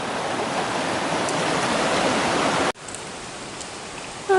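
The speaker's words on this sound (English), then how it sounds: "this is Chip Creek at the second crossing" Chip Creek rushing past a trail crossing, a loud, even hiss of flowing water close by that cuts off abruptly midway, then continues as a quieter, more distant stream.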